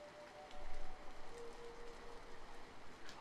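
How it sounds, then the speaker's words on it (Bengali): Steady light drizzle falling through a dark night, a soft continuous patter of rain held at an even low level from start to finish with no voices. "ঝিরঝির করে বৃষ্টি পড়ছে এক নাগারে"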